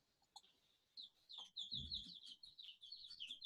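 Young chicks chirp indoors in a room, a run of quick, high peeps repeating close by, with a brief low thump partway through.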